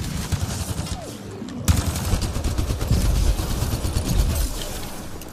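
Rapid automatic gunfire aimed at robots in the video game Mass Effect: Andromeda rattles on continuously and loudly, thickening with a sharp blast partway through.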